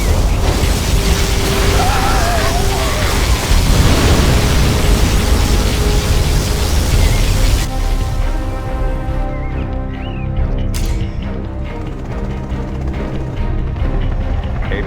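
Particle cannon blast and explosions in C&C Generals Zero Hour, a loud, dense roar of booming detonations for about eight seconds, then a thinner rumble with scattered pops and mechanical sounds continuing underneath.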